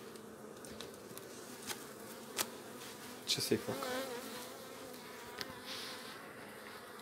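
Honeybees swarm densely over a frame pulled from the middle of a hive's brood nest, their steady close buzzing running throughout under a short spoken question, with a few louder passes near the middle.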